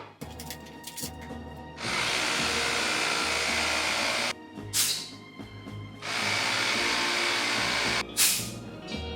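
An air pump fills a QuickJack 7000TL home car lift to about 40 to 50 psi, a loud steady hissing whir that cuts off twice with brief hisses of air, close up and alone.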